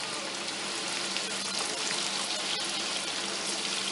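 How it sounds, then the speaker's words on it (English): Palm-filled labangalatika packets deep frying in hot oil, a steady, dense sizzle and crackle that holds level throughout with no talking. "In hot oil we are adding these palm filled packets"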